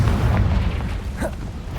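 Confringo explosive spell blast in Hogwarts Legacy, a short booming burst standing out over a steady rumbling game backdrop, with a brief whooshing sweep after it.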